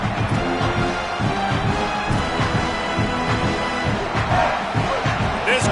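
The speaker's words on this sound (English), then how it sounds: "This crowd trying to make life miserable for this offense." A football stadium crowd roars against the offense, a loud, continuous wash of voices and shouting that swells slightly and never drops out over the full stretch.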